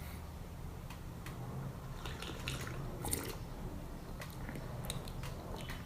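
Hot raw pu'erh tea, a 1999 Big Green Tree Red Ticket, being sipped close by: faint, scattered slurps and small wet mouth sounds over a quiet room hiss.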